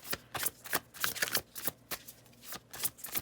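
Tarot cards shuffled by hand in a steady run of crisp riffling bursts, close and fairly quiet, with no voices.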